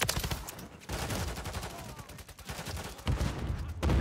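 Sustained bursts of LMG machine-gun fire in Modern Warfare 3, loud and rapid, with short pauses between strings of shots and dense game battle noise throughout.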